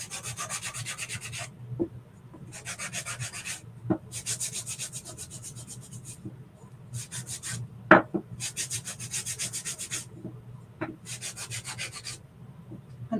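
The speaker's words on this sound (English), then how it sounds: "I'm just going to give these a light sanding on both sides." Wood is sanded by hand in repeated bursts of scratchy rubbing, several strokes separated by short pauses and occasional light knocks.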